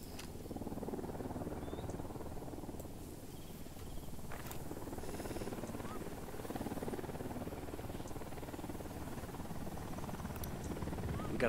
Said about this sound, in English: Got a chopper.